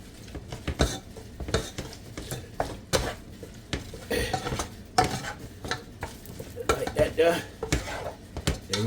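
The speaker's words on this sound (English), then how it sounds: "We're gonna stir this up real good," Ingredients are stirred briskly in a pan for baked spaghetti, with rapid, repeated clanks and scrapes of utensil on metal, fairly close and busy throughout.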